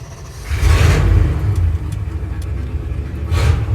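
The engine of a 1971 Ford Highboy truck rumbles at idle after a carburetor rebuild, its revs swelling in a burst near the start and again at the end.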